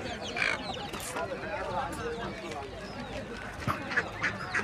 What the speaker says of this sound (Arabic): هذا الوز مفيد جدا.